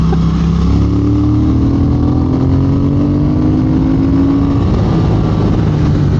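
A Triumph Speed Twin motorcycle engine revving on the road, a loud, continuous engine drone with a rising pitch as the rider opens the throttle, wind rumble underneath.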